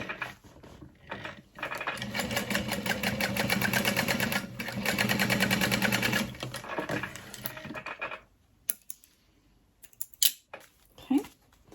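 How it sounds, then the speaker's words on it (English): A sewing machine top-stitches fabric for a passport wallet in a steady mechanical run of about six seconds, followed by sparse clicks and handling sounds. "So what we're gonna do is top stitch there."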